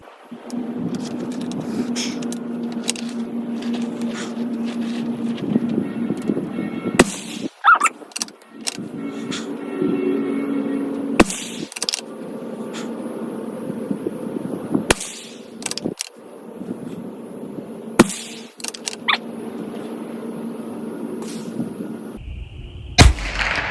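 Rimfire rifle shots ring out during a Leupold 3-9x40 rimfire scope test outdoors, several sharp cracks spaced a few seconds apart over low background hum and wind.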